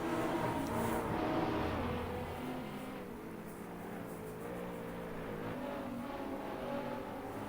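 Race cars in Gran Turismo 5 roar around the Barcelona circuit in a road car championship, a steady, loud blend of engine drone and revving under commentary-free game audio, with engine pitch shifting as cars accelerate out of the final corner.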